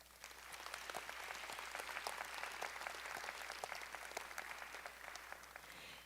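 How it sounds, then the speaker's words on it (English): Large commencement audience applauding faculty and staff at the University of Utah Asia Campus graduation, a steady, dense wash of many hands clapping from a distance, sustained and even throughout. "Let's give another round of applause for our amazing faculty and staff here at UAC"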